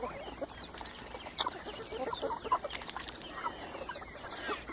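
Several chickens cluck and chatter near a duck pool, with soft, irregular clucks and a few sharper calls rising over a low outdoor background.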